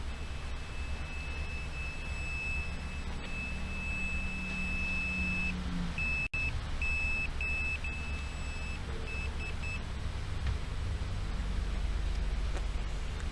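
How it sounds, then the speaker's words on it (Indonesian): A steady high electronic beep from a multimeter in continuity mode sounds continuously for several seconds, then breaks into a few short intermittent beeps before stopping, over a low background hum. "Ini mode buzzer mengukur nyambung atau"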